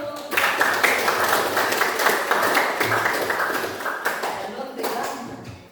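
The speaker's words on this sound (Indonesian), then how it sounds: "Sebelumnya kita berikan aplaus dulu." A class group claps together in a sustained burst of applause lasting about five seconds, dense and fairly close, then thins out and fades near the end.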